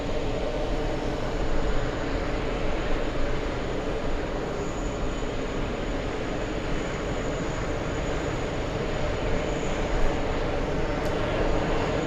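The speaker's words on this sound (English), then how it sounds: "I'm pretty sure that's the Aer Lingus flight heading to Manchester, and yes it is, Aer Lingus 44." Aer Lingus flight 44, an airliner bound for Manchester, roars at JFK airport, a dense continuous engine rush that stays loud and steady throughout, with no talking.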